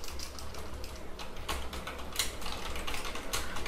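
Rapid clicking keystrokes on a computer keyboard, an irregular close-up patter of taps over a steady low hum, with no voices.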